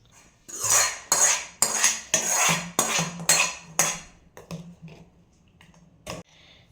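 A spoon scrapes and clinks against a metal cooking pot as cooked vegetable curry with paneer is served into a dish: a run of sharp, close scraping strokes in quick succession that thin out to a few isolated taps.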